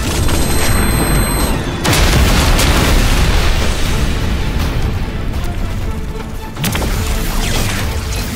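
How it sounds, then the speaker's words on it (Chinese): High-explosive grenade detonations in an animated sci-fi series, a dense, loud roaring blast sustained over several seconds with repeated booming bursts and rumbling debris, no voices. "使用高爆手雷。"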